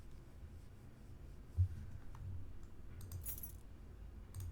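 A bunch of keys jangles in the Nancy Drew: Tomb of the Lost Queen video game, a brief quiet clink followed by a short bright metallic rattle over faint background ambience.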